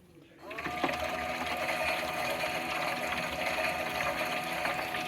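Brand new Miele W1 version toy washing machine running a water wash cycle, giving a steady motor whir with water sloshing that starts abruptly and continues evenly, fairly faint.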